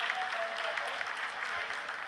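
Audience applause fills a room during the Chandrayaan-3 lunar landing broadcast, a steady dense clapping from a crowd that holds evenly throughout without voices standing out.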